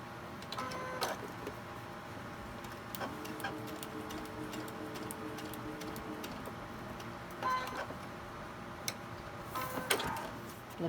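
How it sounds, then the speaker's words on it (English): A quiet, rapid mechanical rattle of a sewing machine stitching runs in short bursts, with small clicks and handling noises between runs. "Take it over here to the sewing machine, and you want to sew it."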